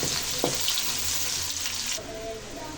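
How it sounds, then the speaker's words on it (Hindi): Onions fry in hot oil until golden, a dense, steady hiss of sizzling close by, with a faint clink near the start and the sound thinning slightly after a moment. "अब प्याज को हमें तब तक फ्राई करना है जब तक इसका प्यारा सा खूबसूरत से गोल्डन से कलर आ जाए।"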